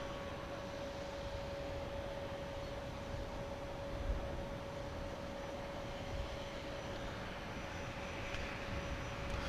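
An Airbus A350 XWB flies its display at the 2015 Paris Air Show, a faint, distant jet roar held as a steady broadband rush without any talking.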